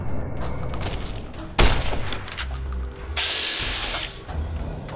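Game gunshots aimed at an enemy's head in Fallout: New Vegas, one sharp loud report amid mechanical clicks and a ringing interface tone, with a quieter thump later.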